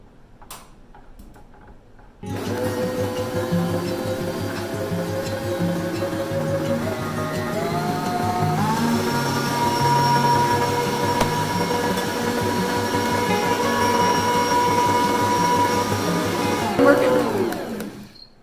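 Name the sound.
blender or electric mixer mixing chocolate cake batter with oil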